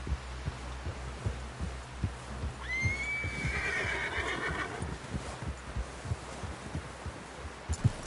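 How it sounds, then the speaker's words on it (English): A horse in the video game Red Dead Redemption 2 lets out a long whinny over steady rhythmic hoofbeats, clear and close, with the clip-clop continuing after the neigh fades. "Someone help John down off this horse."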